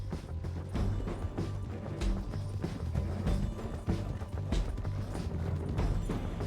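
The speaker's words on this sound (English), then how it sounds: "Damn horse!" Horse hooves clip-clopping in the video game Red Dead Redemption 2, a brisk continuous rhythm of hoofbeats over a dense rumbling background throughout.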